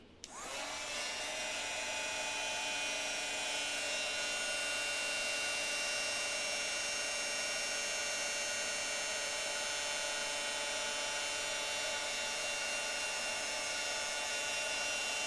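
A heat tool runs steadily over embossing powder, melting it, with a loud continuous whooshing blower hum that starts abruptly and holds constant throughout, close up with no talking.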